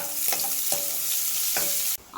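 Chopped onions fry with a steady, dense sizzle in a pan for curry leaf and coriander rice, while a spoon scrapes and clinks against the pan three times; the sizzling cuts off abruptly near the end.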